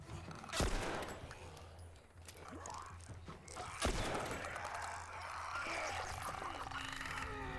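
Gunfire in The Last of Us, with two sharp broadband shots a few seconds apart over a busy, noisy game soundscape and a steady low hum; a voice briefly talks nearby.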